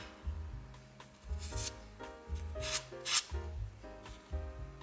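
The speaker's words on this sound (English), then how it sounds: "Scrape it off." Nail polish scraped off a metal stamping plate, a series of repeated rasping strokes in a steady rhythm, close and fairly quiet, with no talk.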